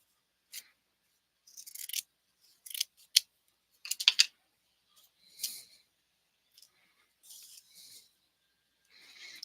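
Scissors snip through paper in a series of short, crisp cuts, with bursts of two or three quick snips separated by brief pauses, close and fairly quiet in an otherwise silent room.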